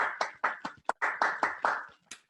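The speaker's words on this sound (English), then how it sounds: "Let's hear some applause for the gang here." A small group claps for the gang at a community awards event, with roughly ten distinct, fairly close hand claps in an uneven rhythm that quickly trail off.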